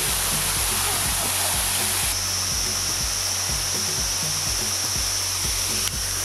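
A 115-metre waterfall at Dindefello, Senegal, roars as a loud, unbroken broadband rush close by, steady throughout with no voices.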